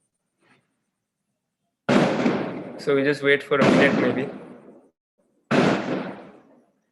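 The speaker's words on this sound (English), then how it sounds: "There are a lot of patakas going on, a lot of fireworks, so that's why there's a lot of noise right now." Fireworks and firecrackers burst outside in loud, sharp cracks: a long cluster of rapid bangs with a crackling middle, then one more separate blast, with a person speaking briefly over them.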